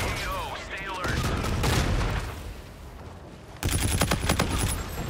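Air strike gunfire in the Ghost Recon shooter game: rapid, crackling volleys come in two loud stretches separated by a quieter lull, with a voice speaking over the start.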